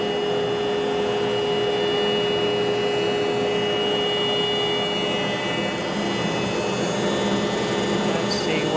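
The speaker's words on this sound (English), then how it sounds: "I believe the machine homes" Motor hum and whirring of a CNC machine homing its axes, a steady mechanical drone with tonal whine running continuously and fairly loud throughout, close by.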